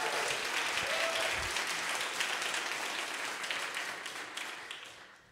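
A live jazz audience in New Orleans applauds the tenor saxophonist, a dense wash of clapping that carries steadily and then fades gradually toward the end, with no talking over it.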